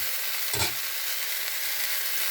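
Okra frying with a fish head in a pan of hot oil and cumin, a loud steady sizzle with a brief stirring scrape near the start.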